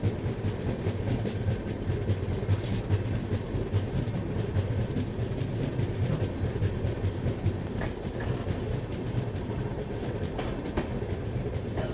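The Rapti Sagar passenger train rolls along the line toward Nagpur, a continuous loud rumble with rhythmic clickety-clack of wheels over rail joints, heard from on board.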